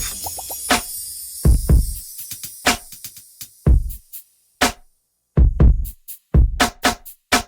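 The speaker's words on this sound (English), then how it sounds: "I then layered some other sounds, added a triangle in, and these are what the drums sound like." Programmed drum beat with slightly off-beat snares and a layered triangle, playing sparse, punchy hits separated by clear gaps of silence, loud and dry with no voices.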